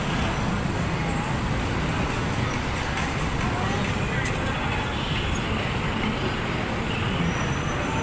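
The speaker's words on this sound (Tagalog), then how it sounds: "Mga sasakyan." Rush-hour street traffic with cars, buses and trucks passing, a dense continuous roar of engines and tyres that stays constant, with faint voices somewhere in the background.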